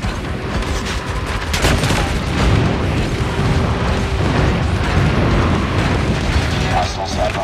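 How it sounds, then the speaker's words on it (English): Airstrike explosions in Call of Duty Mobile Hardpoint mode, a dense rolling barrage of booms and blasts sustained loudly throughout, with game voice lines and effects layered on top. "Friendly airstrike incoming."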